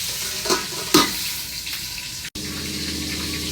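Fried chicken cooks in a covered pan, a steady sizzle and crackle with a few louder pops and a brief stir, continuous and close with no voices.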